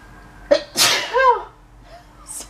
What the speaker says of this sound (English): Okay, sorry, I'm going to sneeze.